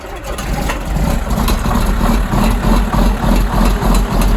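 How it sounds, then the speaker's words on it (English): A John Deere 4440 tractor engine, warmed by an hour on a block heater, runs loud and close just after a cold start, with a low, steady, rhythmically pulsing diesel idle. "I've had this John Deere 4440 plugged in for about an hour, so we'll see how it starts"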